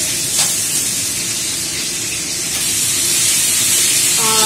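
Pieces of fish fry in hot oil with a loud, continuous close hiss that swells slightly toward the end, no voices.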